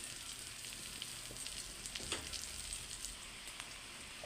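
Chopped garlic and green chillies fry in oil for restaurant-style fried rice, making a faint, steady crackling sizzle with scattered small pops and light stirring.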